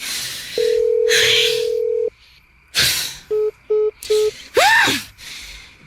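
A phone call tone plays from a cellphone: a long steady tone, then short beeping pulses and a rising-falling tone, with breathy sounds between, no speech.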